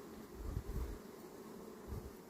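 Steady buzzing of many honeybees at the hive, a dense insect hum with a few louder passes close by.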